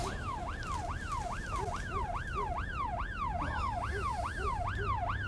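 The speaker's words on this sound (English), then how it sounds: "Ambulance has arrived." An ambulance siren wails in a steady repeating rise-and-fall pattern, loud and continuous over low rumbling traffic noise, with no one speaking.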